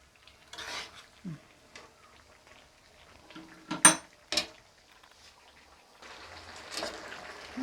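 Spices stirred with water in a cooking pan while making a chicken feet recipe, a few soft scrapes and clinks of a spoon against the pan with light watery sloshing, sparse and close.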